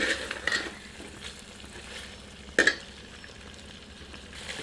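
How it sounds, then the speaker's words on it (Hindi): A ladle stirs Rajasthani red chili chicken made with Mathaniya chilies in a pan over low heat: a few quiet, separate scrapes under a faint sizzle. "एक बार अच्छी तरह कड़छी चलाते हैं।"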